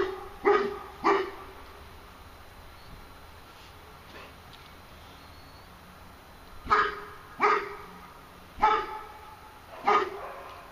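Several dogs bark outdoors in separate bursts, two sharp barks early on, then a quiet stretch, then four more spaced barks, moderately close and clear with no talk over them.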